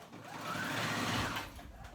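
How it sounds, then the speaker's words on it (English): A sewing machine runs steadily for about two seconds, stitching a back-and-forth zigzag seam on swimsuit fabric, its motor whir and needle chatter swelling slightly in the middle. "So I go back and forth with a zigzag stitch."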